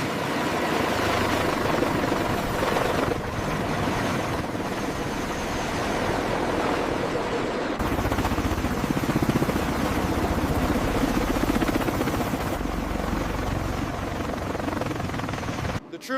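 A military helicopter during a US Marines combat exercise off the Brazilian coast, a loud, steady rotor and engine roar sustained throughout, with wind and surf-like rushing noise blended in.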